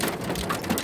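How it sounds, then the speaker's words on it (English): Hail hammers down during a storm in Bowden, Alberta, with water pouring through a downspout, giving a loud, dense, continuous patter and rush, close by and without talk. "It's a pile of hail."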